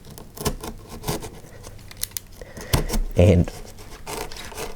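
Blade cutting into high density foam and chicken wire during demolition of an old branch line, with scratchy rubbing and tearing strokes, a couple of sharp snips, and brief talk over the work.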